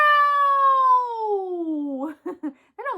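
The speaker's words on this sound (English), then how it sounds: "That almost sounds like a cat." A toy or children's sound book plays a meow, one long descending electronic cat cry, followed by short bursts of a voice.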